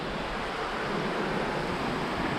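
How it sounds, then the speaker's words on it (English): Steady, dense rushing of a waterfall along a forest trail in Olympic National Park, a continuous hiss heard from a short distance with no breaks and no voices. "There's a waterfall over there."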